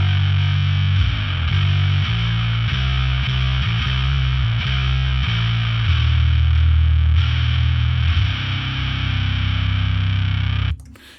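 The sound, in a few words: fuzz distorted bass guitar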